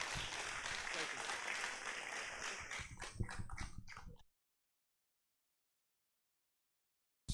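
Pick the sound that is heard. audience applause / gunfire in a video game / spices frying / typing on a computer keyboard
audience applause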